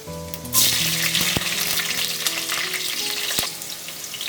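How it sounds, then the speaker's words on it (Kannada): Green chillies drop into hot oil and start sizzling loudly, a bright, steady crackle that rises suddenly and continues with a couple of sharp utensil knocks against the pan. "ಇವಾಗ ಇದು ಎಣ್ಣೆ ಕಾಯ್ತಾ ಇದೆ, ಇದಕ್ಕೆ ನಾನು ಹಸಿರು ಮೆಣಸಿನ್ಕಾಯಿ ಹಾಕ್ಕೊತಾ ಇದ್ದೀನಿ."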